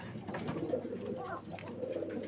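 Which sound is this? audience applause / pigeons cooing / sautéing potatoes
pigeons cooing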